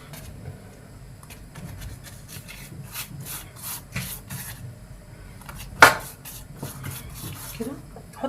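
Phyllo pastry sheets rolled up into a log by hand, soft papery rustling and rubbing at low volume with one sharper crinkle partway through.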